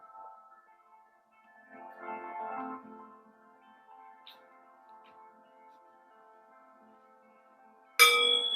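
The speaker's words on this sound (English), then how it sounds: "I'll ring the chimes to begin." Ritual chimes are struck once near the end at the opening of a community grief ceremony, a bright, ringing onset that hangs and sustains after long near-quiet with a faint murmur earlier.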